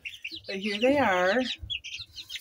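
Chickens out in a backyard enclosure give a loud, drawn-out squawk up close, with softer clucks and chirps around it, while a person briefly talks over them.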